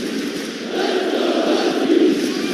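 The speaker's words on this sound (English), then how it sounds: "The UConn crowd coming alive." Home crowd at a UConn men's college basketball game cheering, a steady wash of many voices that swells and stays loud throughout.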